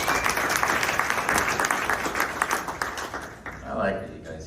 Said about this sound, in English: I like that you guys clap.